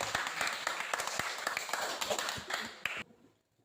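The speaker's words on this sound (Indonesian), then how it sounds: "Berikan tepuk tangan buat" Classroom applause during a school lesson, a burst of many hands clapping close by for about three seconds, then cutting off abruptly into quiet.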